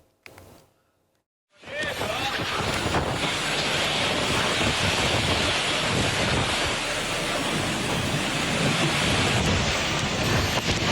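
Sudden storm wind with heavy rain in a West Java village, a dense, constant roar of gusting air and pouring rain that starts abruptly after a brief quiet moment and holds loud throughout.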